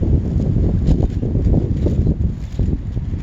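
Steady, loud wind buffeting an outdoor microphone, a constant low roar with gusty fluctuations and no talking.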